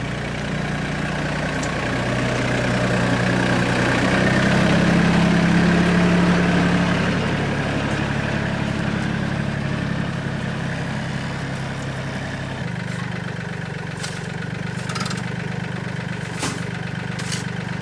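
A tractor engine idles steadily on a homestead in Portugal while a trailer is moved, a continuous low, loud rumble that swells slightly and then settles, with a few brief sharp knocks near the end.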